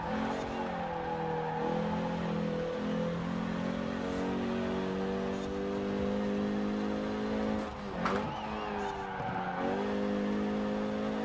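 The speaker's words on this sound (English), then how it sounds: "Hear the tires scrubbing there trying to get a little traction." Renault Megane R26.R engine in Forza Horizon 4 drones steadily with a brief dip partway through, while the tires scrub and squeal faintly through a corner.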